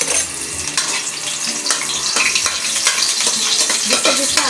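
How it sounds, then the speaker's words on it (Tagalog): Garlic sizzles and crackles in a hot frying pan, close and loud, with bursts of stirring and scraping as it is sautéed. "Lalagay lang po yung bawang."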